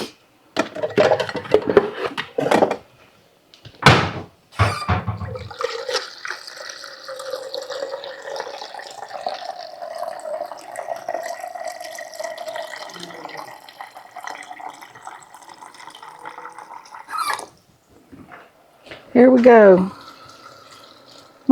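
Tap water pours steadily into a cooking pot for meatballs and gravy for about twelve seconds, a sustained hiss and splash. A person talks before and after, with a few clanks of cookware at the start and end.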